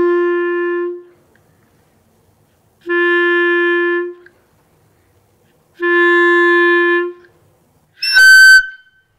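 A clarinet holds three long sustained notes of the same pitch, each lasting over a second with pauses between, the tone changing as more mouthpiece is taken, followed by a short shrill squeak at the end.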